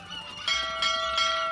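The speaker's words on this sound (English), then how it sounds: "Three bells! Well, we all know what three bells means." Three bell strikes ring out aboard a ship in a cartoon, evenly spaced and fairly loud, each clear metallic tone sustaining over a faint background.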